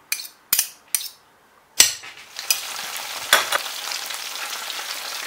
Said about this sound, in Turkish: tavuklarımı kızartmaya geçebilirim artık